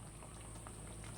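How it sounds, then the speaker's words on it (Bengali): Fish roe curry bubbles steadily in a pot, a soft, constant close-up simmering patter with no voices. "10 মিনিট আমি ভালো করে ফুটিয়ে নেব।"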